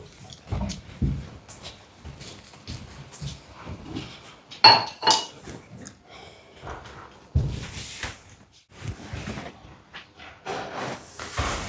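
A glass is set down amid scattered clinks and clatter of dishes in a home, several sharp, fairly close chinks spread across quiet background with a few soft movements.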